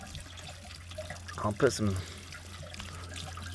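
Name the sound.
water running out of RV water heater anode port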